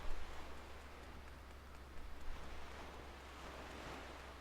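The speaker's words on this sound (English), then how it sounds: "You can just see the sea bobbing up and down." Sea waves in The Legend of Zelda: The Wind Waker, a quiet continuous wash of surf with gentle swells rising and falling, alone without talk.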